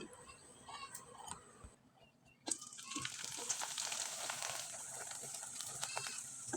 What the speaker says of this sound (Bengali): এবার আমি কয়েকটা পিঠা আপনাদের তেলে ভেজে দেখিয়ে দিচ্ছি